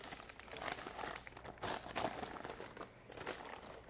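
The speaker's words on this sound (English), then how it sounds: "it will peel off pretty easily if you use parchment paper" Parchment paper is peeled off a baked sponge cake layer for a Hungarian trifle, giving soft, close crinkling and rustling in several uneven bursts.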